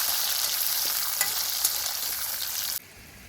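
Mustard seeds, dried red chilies and whole small onions frying in oil for sambar, a dense close hiss with light popping that cuts off abruptly near the end.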